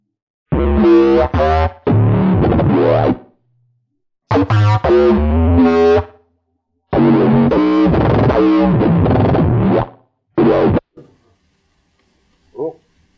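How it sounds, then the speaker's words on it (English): Live bass sounds from a Sequential Circuits Pro-One synthesizer, loud distorted and effected notes in four separate phrases with short gaps between them, then a faint blip near the end. "these are some of the other bass sounds that I've just made live from this Pro 1 here"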